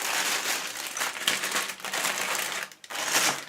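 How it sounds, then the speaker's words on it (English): Plastic parts bags being crinkled and rummaged through during a ToylinX Pagani Huayra 1/8 scale model build, giving close, continuous crackling rustles with a brief pause near the end before resuming. "Not that I want to keep crinkling through these bags the whole time"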